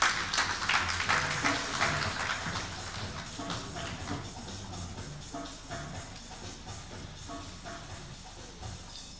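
Sustained audience applause greets a speaker taking the stage at a gender-equity technology event, a dense patter of many hands that is loudest at the start and slowly thins out over several seconds.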